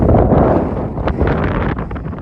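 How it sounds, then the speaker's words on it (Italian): Strong wind buffets the microphone with a steady, low roaring rumble, loud and close, with no voices. "Ghiacciato il vento."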